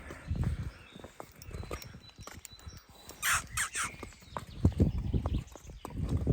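A draft horse mare walking, her hooves clip-clopping in an irregular rhythm close by, with faint birdsong in the background.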